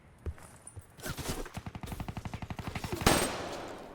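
Rapid automatic fire from an M8 rifle in a first-person shooter game, a long close burst of evenly spaced shots following a couple of single cracks, ending on a louder report.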